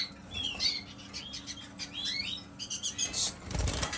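A small pet bird that had been seriously ill makes faint, close chirps and brief rustling wing flutters in a quiet room, with no voices.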